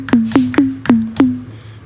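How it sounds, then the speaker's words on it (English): Five punchy electronic TR-808-style kick drum hits, each a deep sine thump with a sharp click at the start, played in a loose, uneven rhythm. "Kick is usually a sine wave, which sounds very much like here."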